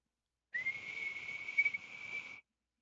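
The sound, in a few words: whistle being blown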